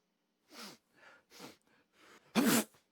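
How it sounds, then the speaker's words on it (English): A string of sharp, breathy sneezes close to the mic, several smaller bursts spaced apart, ending with one much louder, explosive sneeze. "hearing those sneezing sounds for the rest of this video's time"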